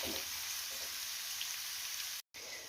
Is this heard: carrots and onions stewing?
yes